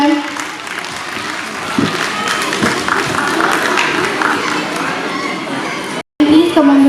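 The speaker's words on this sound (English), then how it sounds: "Please clap for them." At a Kidzee preschool annual function, a school audience claps in a steady, dense burst of applause that carries on for about six seconds, breaks off abruptly, then resumes briefly.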